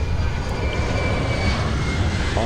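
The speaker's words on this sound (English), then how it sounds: "That's a loud airplane in the background." A loud airplane engine roars steadily in the background near Tokyo Narita, a continuous broadband rumble with a faint whine, no voices.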